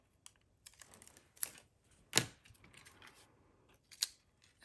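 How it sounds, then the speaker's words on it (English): Scissors snipping card stock during cardmaking, a few sharp separate cuts and clicks spaced across quiet handling noise, close and soft. "I'm gonna cut this off though."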